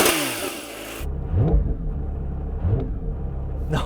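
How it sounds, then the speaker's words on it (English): Porsche 911 S/T with sports exhaust and a single-mass flywheel: a deep engine rumble and rev rises, with a brief rough chatter as the clutch is released, close and fairly loud without talk. "Or you can hear the chatter when I release the clutch."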